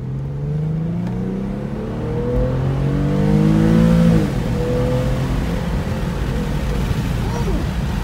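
Infiniti G37 engine fitted with a Mishimoto intake tube revs up from inside the car, rising and falling in pitch with a loud pull, while someone speaks over it.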